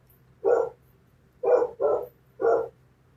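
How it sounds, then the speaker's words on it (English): A dog barks four times, loud and close, with two single barks and then a quick pair, the bursts spaced over about three seconds against a quiet hum. "don't tell me that dog is gonna be barking all through this"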